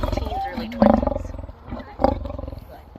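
A lion at the Greater Vancouver Zoo growls during a big-cat feeding, two rough throaty bursts rising and falling over about three seconds, close and fairly loud, with a person talking over it.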